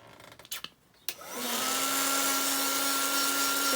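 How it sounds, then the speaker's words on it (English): A heat gun drying paint on an art journal page, starting up after a couple of soft knocks and settling into a steady, loud whooshing drone with a constant whine that runs to the end, alone without talk. "I'm going to dry my whole layout now with the heat gun"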